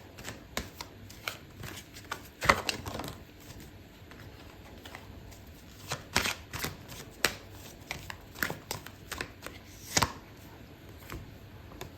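Tarot cards shuffled by hand during a love reading, a steady riffling and slapping of card stock with sharp snaps around the middle and near the end, close and fairly quiet, with no talking.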